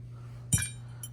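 Small gummed-up parts from a Carter AFB carburetor off a 1964 Studebaker Avanti R-2 drop into a cleaning bath, giving one sharp close metallic clink with a fainter tap just after, over a steady low hum.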